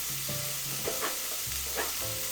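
Butter and plain flour stirred in a hot pan for a roux, a steady sizzle with a spoon scraping and stirring in short strokes, close up and with no talk.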